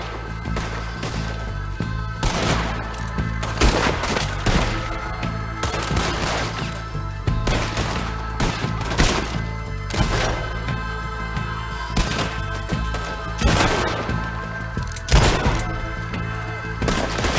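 Repeated gunfire bursts in a Red Dead Redemption II shootout, sharp cracks and booming volleys spaced through a dense, continuous firefight, loud and close.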